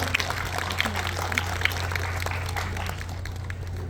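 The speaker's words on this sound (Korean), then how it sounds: "우리 장미축제를 위해서 다시 한번 큰 박수 보내주시면 감사하겠습니다" Outdoor crowd applauding at the opening ceremony of the Wonju Rose Festival, a continuous hiss of many hands clapping with a steady low hum underneath, moderately loud and without talk.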